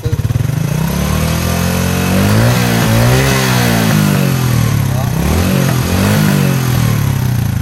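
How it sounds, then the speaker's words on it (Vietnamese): Motorcycle engine held at three-quarter throttle for a charger test, a loud steady drone with rising and falling rev pitch throughout, close to the microphone and alone with no talk. "Mình sẽ ga lên cái mức 3/4"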